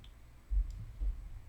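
Two soft, faint mouse clicks about half a second apart, made while working in 3D software, with no talking over them.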